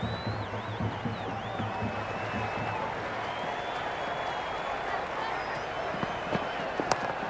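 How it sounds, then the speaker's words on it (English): Stadium crowd at an IPL T20 cricket match between Gujarat Titans and Mumbai Indians in the video game Cricket 26, a steady loud roar of cheering and whistles filling the clip, with brief voices early on and sharp claps near the end. "It's evident and ever so audible that the crowd is at near bursting point"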